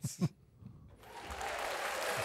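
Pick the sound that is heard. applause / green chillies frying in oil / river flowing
applause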